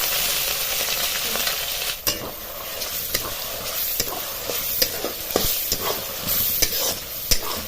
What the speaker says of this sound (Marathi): वाटणी सारखं हलवीत राहायचं